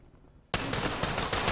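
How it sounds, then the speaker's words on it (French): A rubber bullet launcher firing in the tactical shooter game Ready or Not: a sudden loud burst followed by a rapid run of heavy repeated shots, with no talk over it. "Oh non, j'ai raté mon coup de lance caoutchouc."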